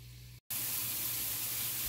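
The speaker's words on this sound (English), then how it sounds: "Okay, my water has come to a boil for the pasta." A pot of water at a rolling boil for pasta gives a steady hiss and bubbling, nearly continuous, after a brief gap of silence near the start.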